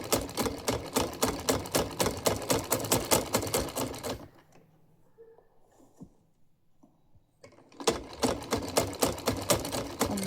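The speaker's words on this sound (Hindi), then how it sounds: "नीचे की चोली तो मैंने सिल दी है और अब ऊपर से इसकी हल्की सी फिटिंग कर देते हैं।" A sewing machine stitches the top of a choli blouse in rapid, even mechanical clatter for about four seconds, goes nearly silent for a few seconds, then resumes the same close, steady stitching.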